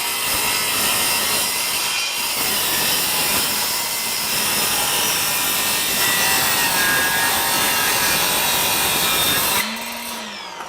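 A Ryobi 18V 7-1/4" cordless sliding compound miter saw cuts through wood, a loud continuous whining bite lasting about ten seconds before the blade spins down and the motor winds off.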